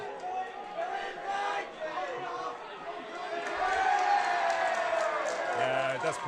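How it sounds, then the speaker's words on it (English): A football crowd at a Coastal Premier League grand final swells into chatter and jeering around a yellow card, a broad murmur rising and staying loud, with commentators talking over it. "The crowd certainly like that one."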